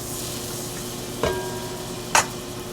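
Butter melting in a pan before onions, garlic and carrots go in, a soft, steady sizzle with two brief sharp clicks from a utensil against the pan.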